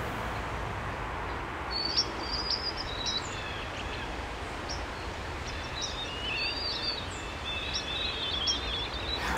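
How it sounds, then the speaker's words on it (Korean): Birds chirp and sing faintly at a distance in an apartment complex garden, with short scattered calls over a steady outdoor background hiss. "정원을 보면 새소리가 들리더라고요."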